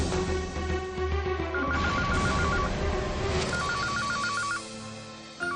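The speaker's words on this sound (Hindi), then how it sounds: "जरूर करण का फोन होगा।" A telephone rings in a drama scene, a repeating electronic ring in bursts that plays over a steady bed of background music.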